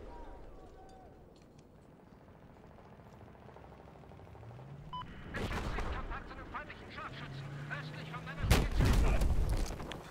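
Gunfire and explosions on the Siege of Shanghai multiplayer map in Battlefield 4: a low rumbling backdrop breaks into two sharp, loud blasts of firing, with someone talking over the action.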